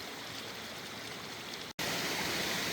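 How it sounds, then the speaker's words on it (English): A creek rushes down along the trail near Lee Falls. The flowing water makes a constant, close, full-bodied roar, broken only by a split-second dropout before it resumes just as loud. "the creek comes down through there"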